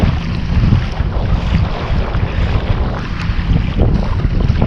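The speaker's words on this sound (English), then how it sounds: "It's been a breezy day. Started out reasonably. Now it's just obscene." Strong, gusting wind roars across the microphone while kayaking on open saltwater, a steady loud rush with faint water wash beneath and no talking.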